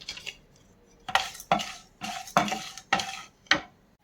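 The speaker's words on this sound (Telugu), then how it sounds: "నెయ్యి వేడైన తర్వాత తాలింపు దినుసులు ఇంకా పచ్చిపప్పును కూడా యాడ్ చేసి ఫ్రై చేసుకోవాలి" Tempering spices and chana dal fry in hot ghee while a spoon stirs them, giving a series of sharp scraping strokes against the pan over a faint sizzle, with no talk.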